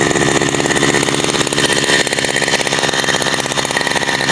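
Engine idling as it warms up in a garden plantation, a loud, close, steady rapid chugging pulse with no pauses, alone without talk.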